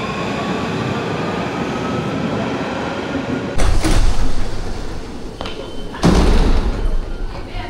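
A Paris metro train sits in a station with a rumbling hum, then two heavy thuds land as the doors slam shut, while people speak faintly nearby.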